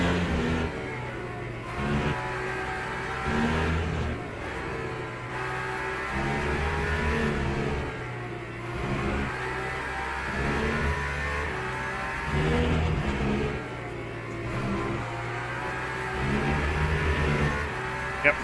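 Race car engines roar in the Le Mans Ultimate endurance racing game, a steady loud drone of revving engines that rises and falls as cars accelerate and pass throughout, with no talking.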